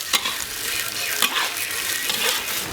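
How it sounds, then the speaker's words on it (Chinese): Star anise, cinnamon, bay leaves, ginger and garlic are stir-fried in a pan with a lively sizzle, broken by repeated scraping strokes of the spatula, close and fairly loud. "把这个八角、桂皮、香叶，还有姜蒜下进去炒"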